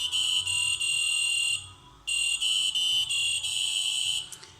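A small electronic buzzer on a sensor test setup sounds a shrill continuous tone in two long bursts with a short gap between, then cuts off abruptly.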